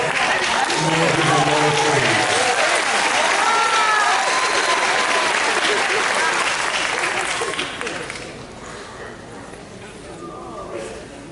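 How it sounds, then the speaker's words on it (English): Audience at a Miller-Motte Technical College graduation in Conway breaks into loud, sustained applause and cheering, with crowd voices mixed in, dense for about eight seconds before tapering to scattered claps. "let them hear your excitement for them. Do not hold your applause."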